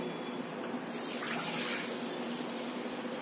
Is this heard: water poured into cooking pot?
yes